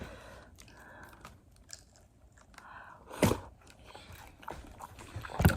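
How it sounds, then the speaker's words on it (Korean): A toddler of about 26 months bites and chews a hot dog at home, with soft irregular chewing and a couple of sharper crunchy bites, close and fairly quiet with no talk. "손톱을 먹을 바엔 핫도그를 먹어라"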